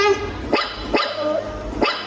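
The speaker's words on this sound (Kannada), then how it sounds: "ನಮ್ಮನೆ ನಾಯಿ ಮರಿ ಬಂತು" A puppy barks three times in sharp, fairly loud yaps with pauses between them, heard during a school anniversary stage skit.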